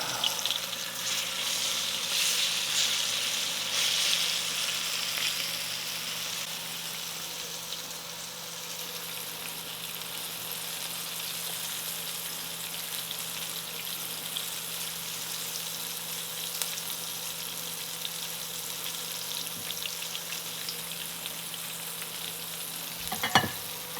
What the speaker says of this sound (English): Considering this is only my second time ever frying anything,